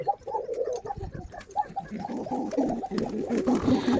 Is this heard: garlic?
no